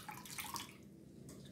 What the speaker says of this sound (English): Now I'll add some more water.